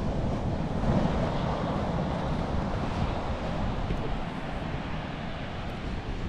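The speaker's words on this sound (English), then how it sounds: "We are at Baker Beach." Surf and wind at Baker Beach in San Francisco's Presidio roar as a steady broadband wash, with wind buffeting the microphone throughout and no voices.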